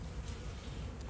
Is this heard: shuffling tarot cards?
no